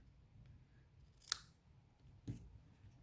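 Scissors cutting cork labels in half for greeting cards, heard as two quiet, brief snips spaced about a second apart in an otherwise hushed room.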